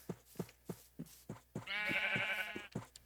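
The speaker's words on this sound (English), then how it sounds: "Come on, sheep." A sheep in the Minecraft video game lets out a clear wavering bleat over a steady run of soft rhythmic footstep thuds, fairly quiet.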